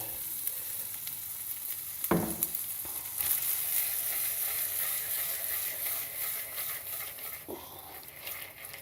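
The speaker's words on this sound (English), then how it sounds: "when this is sizzling like oil cooking" Steady crackling sizzle of clams frying in hot oil in a pan fills the clip, with a few sharp knocks and a faint animal-like squeal partway through.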